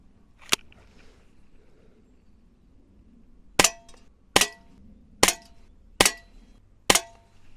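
A Snowpeak SP500 air pistol firing UX Cobra pellets: six sharp, loud cracks, one alone and then five in a steady, closely spaced series, each with a short metallic ring.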